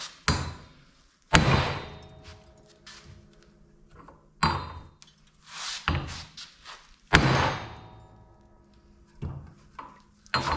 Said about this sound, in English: we're just gonna beat on it with a hammer and take our aggressions out